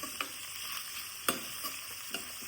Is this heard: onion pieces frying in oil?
yes